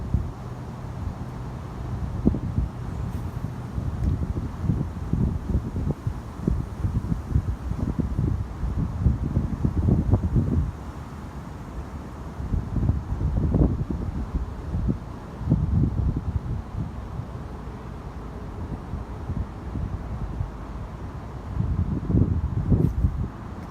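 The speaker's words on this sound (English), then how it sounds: "It's kind of chilly, a little bit of wind." Chilly wind buffets the microphone beside the Charles River while fishing, giving a continuous low rumbling roar that surges in uneven gusts and eases between them, with no voices.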